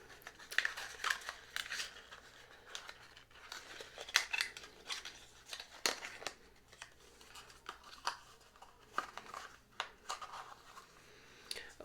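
Packaging on a fashion subscription box being opened up close: crinkling, tearing and snipping sounds in irregular bursts, fairly quiet, with no voices.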